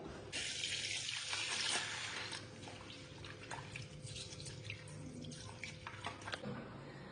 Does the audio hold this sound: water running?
yes